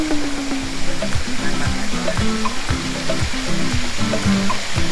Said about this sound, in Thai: เห็นแต่น้ำตก